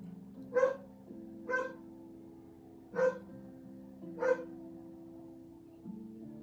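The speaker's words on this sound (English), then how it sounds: "my dog is barking." A dog barks four times at a steady, spaced rhythm, a little distant, over a low constant hum.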